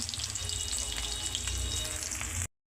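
Chopped onion frying in mustard oil in a pan, a steady close-up sizzle and crackle that runs unbroken and then cuts off abruptly.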